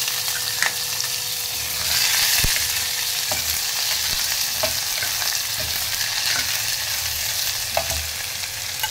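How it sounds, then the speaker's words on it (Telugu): Chopped onion, green chilies and curry leaves fry in a pan of hot oil, giving a steady, close crackling sizzle with occasional stirring clicks throughout, and no voices. "ఈ ఆనియన్ కొద్దిగా వేగనిద్దామండి"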